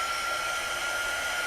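A heat tool blows hot air steadily to dry a painted hedgehog craft piece, a constant close whooshing hiss with no variation and no talking.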